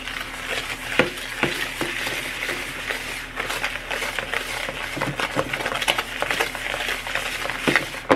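Mica and fragrance being stirred into a mixture, a steady scraping, swishing stir with small clicks and taps running continuously throughout, close and fairly loud.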